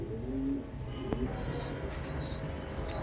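Pigeons coo close by in short, low bubbling calls, with a few faint higher chirps scattered across the quiet background.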